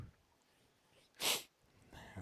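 A single sharp sneeze bursts out close to the microphone, brief and loud against an otherwise quiet background.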